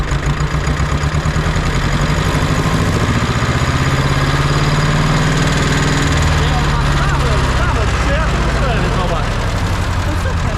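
An Ursus tractor's diesel engine runs loud and close, its rumble steadily revving up as the throttle is opened, with people talking over it throughout.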